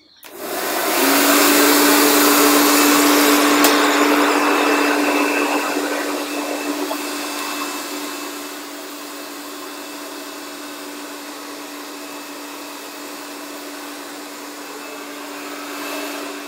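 A hair dryer blows steadily while hair is dried with a brush at home after a Cystemax smoothing treatment; a loud, constant whooshing whir with a steady hum drops a little in level partway through and continues alone without talk.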